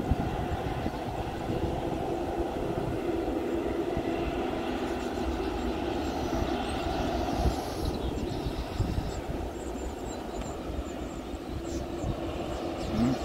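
A Garuda airliner taxis toward the runway at Sultan Hasanuddin International Airport in Makassar, its steady jet engine roar droning on without a break, fairly distant.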